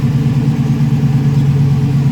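A TVR Chimaera engine runs with a steady, loud low rumble, close and continuous with no pauses and no voices.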